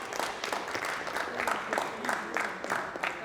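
An audience claps to welcome a performer onto the stage at a poetry recital. The applause is steady, dense and sustained, with crowd noise mixed in and no break.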